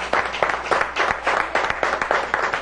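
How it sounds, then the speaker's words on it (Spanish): Applause from an audience at a Venezuelan political broadcast event, dense rhythmic clapping pulsing at moderate volume throughout the short stretch. "Un aplauso."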